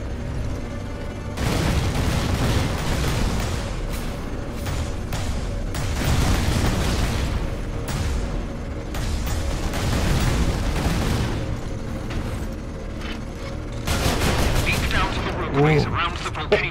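Cannon blasts and explosions from the Space Marine video game boom and crackle in a dense, near-constant barrage of heavy bursts and rumbling fire, with a few short pauses between volleys.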